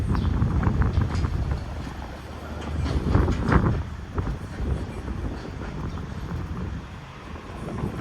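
Loud, steady wind roars across an outdoor spot in Kansas City, a low buffeting rumble that rises and falls in gusts throughout, with no clear talk.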